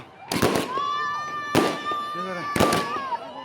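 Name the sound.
fireworks and firecrackers at college night event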